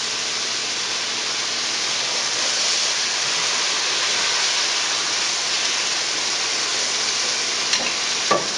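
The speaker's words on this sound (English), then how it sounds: "So now I'll just saute this with the sauce for 1 more minute." Food sizzles and sautés in sauce in a hot pan, a loud steady hiss throughout with a couple of faint clinks near the end.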